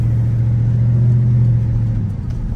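A cammed 4.8 V8 Chevrolet Silverado with a higher-stall torque converter drives at moderate throttle, giving a loud, close, steady low rumble with a lumpy idle-like throb that eases off at the end.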